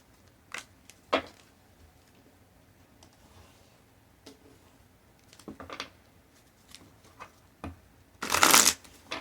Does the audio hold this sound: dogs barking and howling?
no